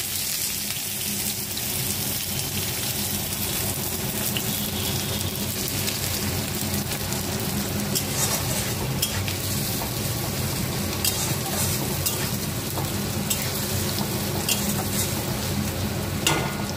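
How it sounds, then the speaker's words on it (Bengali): Chopped onions fry in hot oil, giving a loud, continuous sizzle and crackle close by, with occasional stirring. "তেল গরম হয়ে গেছে, দিয়ে দেবো পেঁয়াজ কুচিটা।"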